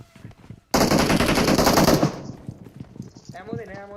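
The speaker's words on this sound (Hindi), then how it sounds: "सामने वाले बंदों को पता चल गया और इन्होंने प्री फायर वगैरह देने शुरू कर दिया" Automatic gunfire in a shooter video game: one loud, sustained burst of rapid shots lasting over a second, followed by quieter scattered game sounds and a few faint sharp effects.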